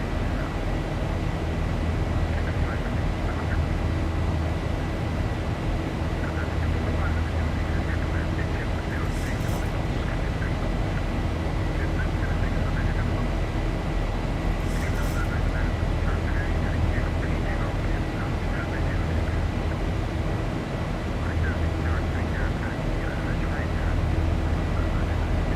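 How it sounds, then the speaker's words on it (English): A Boeing 737-800 in the X-Plane 11 flight simulator accelerates on its takeoff roll, its engines producing a steady, loud, continuous roar with broadband rumble that holds level throughout, and a couple of faint brief clicks. "So there's the airplane accelerating."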